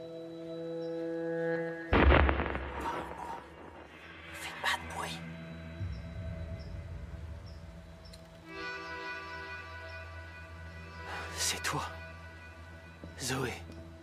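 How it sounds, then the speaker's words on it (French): In the video game As Dusk Falls, a dog in a forest gives sharp barks and whimpers in several short bursts amid ambient game sound, with people talking around it. "Il s'appelle Roosevelt, le chien."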